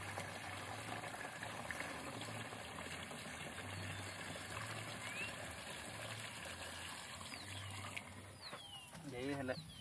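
Water pours and trickles into a backpack sprayer pump in a field cleared for a milpa, a soft steady stream under quiet background with faint voices.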